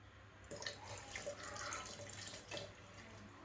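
A cup of water poured for khandvi batter with ginger-chili paste, salt and turmeric: a faint, steady trickle and splash lasting a few seconds.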